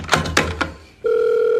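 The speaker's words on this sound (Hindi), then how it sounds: "जल्दी फोन उठा।" A phone rings: after a few short sounds and a brief pause, a steady loud electronic ringing tone starts and holds to the end.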